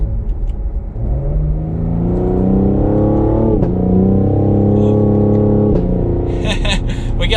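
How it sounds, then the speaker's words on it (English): A 2021 Cadillac CT5-V in manual sport mode revs hard, its engine note rising and sharply blipping on two downshifts, followed by a quick cluster of crackling exhaust pops at the end, loud and close. "We got some pops in that exhaust."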